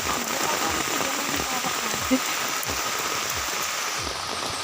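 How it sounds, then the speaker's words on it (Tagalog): Steady rain pours down, pattering densely on surfaces nearby with a constant wash of hiss and scattered heavier drips. "Na umuulan."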